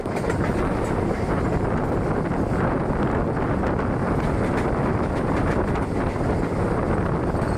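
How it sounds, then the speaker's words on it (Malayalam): Train 16606 Eranad Express, Thiruvananthapuram Central to Mangaluru Central, hauled by an Erode-shed WAP4 electric locomotive, rolls in with a loud, steady broadband rumble and wind buffeting across the microphone, no voices. "തിരുവനന്തപുരം സെൻട്രലിൽ നിന്നും മംഗളൂരു സെൻട്രലിലോട്ട് പോകുന്ന ട്രെയിൻ നമ്പർ 16606 ഏറനാട് എക്സ്പ്രസ് ആണ് ഇതാ വന്നുകൊണ്ടിരിക്കുന്നത്"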